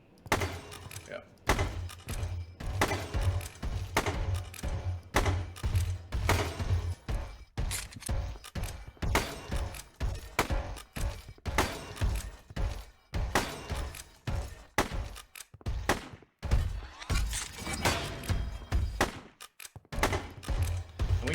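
Sniper rifle shots from a third-person shooter built in Unity (JU TPS 2), firing against an AI enemy, come as repeated sharp reports scattered through a long stretch under steady talk.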